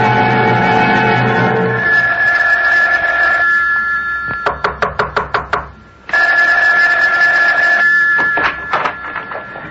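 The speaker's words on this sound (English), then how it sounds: "Isn't that your phone I hear ringing?" An old-fashioned telephone bell rings in a radio drama, a burst of rapid metallic trills cutting in close and loud over a steady tone, pausing and then starting again.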